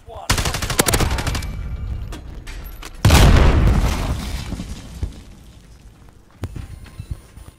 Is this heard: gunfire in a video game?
yes